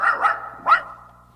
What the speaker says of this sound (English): The Great Dane picked up the message and relayed the barking.